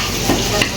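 Food fries in a pan while Bengali dishes are cooked, a steady close sizzle with a couple of brief stirring scrapes.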